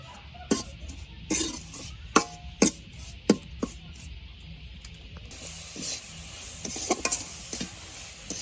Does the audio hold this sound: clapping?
no